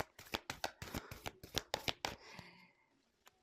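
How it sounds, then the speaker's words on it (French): Playing cards being shuffled by hand, a close, crisp run of rapid riffling bursts over about two seconds that then settles into softer sliding and a faint tap, with no talking. "j'ai battu les cartes"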